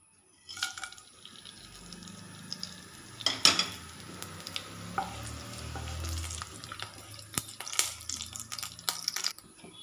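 Fennel seeds, cardamom, cinnamon and cloves frying in coconut oil for a soya roast, a soft crackling sizzle with scattered pops and stirring scrapes, close and moderately quiet, with no speech.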